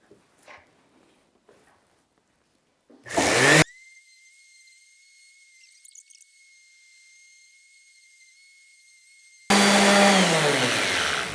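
A sanding pad is run over wood on an old salvaged piece in two loud, harsh bursts: a short one and then a longer one a few seconds later, with quiet faint noise in between.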